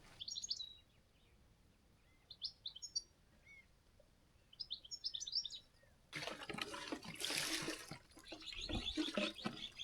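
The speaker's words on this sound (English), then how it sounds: "Wow, Molly, there's a lot of birds, eh?" Several birds chirp and tweet in short bursts outdoors at an off-grid homestead in Portugal, fairly faint and spaced out, before a louder rushing, splashing wash of water-like noise takes over the second half.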